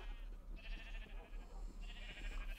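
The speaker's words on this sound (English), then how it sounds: "I've been breeding the rainbow sheep." A sheep bleats twice in the Minecraft video game, two wavering, nasal calls that sound fairly faint over a low, steady background hum, with no talk.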